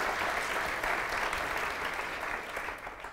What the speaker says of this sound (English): let's have a round of applause for all our panelists